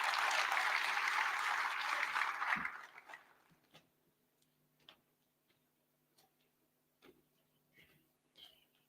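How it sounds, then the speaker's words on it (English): Conference audience at a built environment climate change indaba claps as speakers head to the stage; a full burst of applause lasts under three seconds, then dies away, leaving near silence broken by faint scattered taps. "a round of applause, please, for them as they make their way to the stage"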